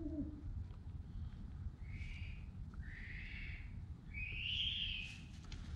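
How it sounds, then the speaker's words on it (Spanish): An owl hoots from the trees at night, giving three drawn-out calls spaced about a second apart. The calls are faint and distant over a low, steady outdoor rumble. "Estamos escuchando una especie de búho."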